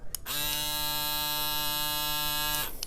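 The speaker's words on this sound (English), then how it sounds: "So what's the scoop on my new Braun Series 3 rechargeable razor? Let's see how noisy it is." A Braun Series 3 310S rechargeable electric razor buzzes steadily for a few seconds, a close, bright, even drone that switches on and off cleanly, with no talking.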